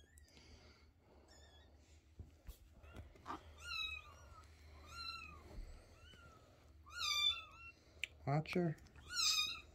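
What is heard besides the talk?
kitten meowing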